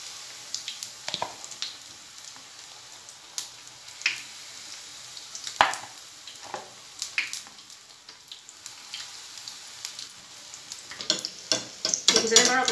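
Carrot malpua batter frying in a frying pan, a soft steady sizzle broken by scattered spatula taps and scrapes, growing busier and crackling near the end.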